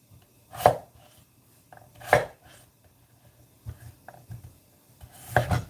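A knife dices potatoes on a cutting board for a Korean braised chicken dish. Three loud, close chops are spaced well apart, with softer taps and scrapes between them.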